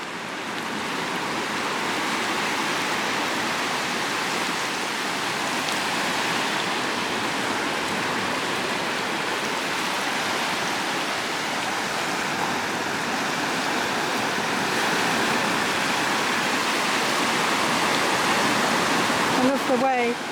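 Outdoor water splashing and churning while someone paddles in cold water on a summer day, a continuous close wash of water with a voice speaking now and then.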